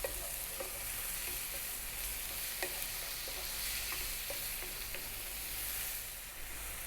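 Prawns frying on high heat in a pan, a dense steady hiss of sizzling liquid with occasional light stirring taps, close and even throughout with no voices.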